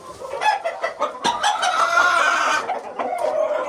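Chickens cluck steadily and close by on a farm where eggs are being collected, a dense, continuous chorus of hens with no talk over it.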